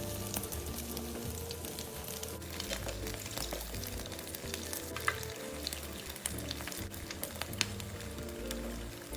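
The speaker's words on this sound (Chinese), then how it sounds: "油炸至糯米卷金黄色后即可离火。" A steady, close crackle of glutinous rice rolls deep-frying in hot oil, bubbling and popping without pause; no one speaks.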